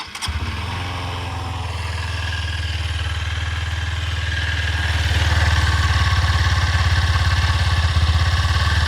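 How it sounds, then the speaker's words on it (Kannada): A Honda NX 200 motorcycle engine idles steadily with a low, even rumble, growing slightly louder partway through; no voices. "ಕೇಳಿಸ್ತಾ ಇದೆಯಾ ಎಷ್ಟು ರಿಫೈನ್ ಆಗಿದೆ ಇಂಜಿನು ಅಂತಂದರೆ?"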